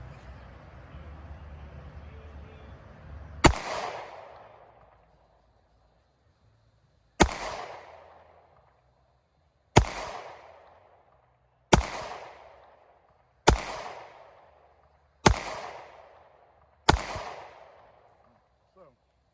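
Seven sharp, loud Glock 43 pistol shots ring out, each cracking and echoing away, spaced a few seconds apart and then quicker, after a stretch of low rumbling background.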